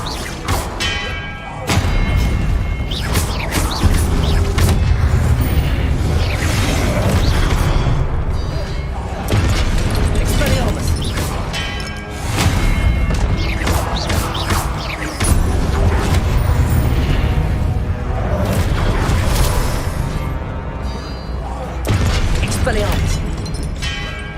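The Confringo explosive spell in the Hogwarts Legacy video game sets off loud, repeated booms and heavy thuds, packed together with rumbling game effects and clattering debris throughout.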